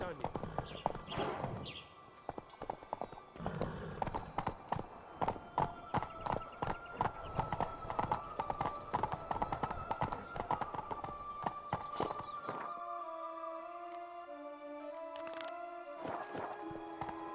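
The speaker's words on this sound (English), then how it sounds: "Whoa there, Roach." Horse hooves clip-clop steadily in a Witcher 3 video game scene, a rapid walking rhythm close and clear, with speech over it and a brief whinny near the start; the hooves thin out toward the end as musical tones take over.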